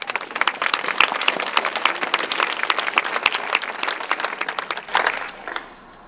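A school graduation ceremony crowd claps steadily, a full, fairly close roll of many hands sustained for several seconds before tapering off near the end.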